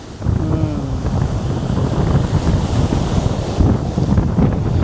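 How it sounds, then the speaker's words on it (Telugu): Cool wind gusting at Keri Beach in Goa, a loud steady rush buffeting the microphone, with surf washing in the background. "చల్లని గాలి అదిరిపోయిందండి"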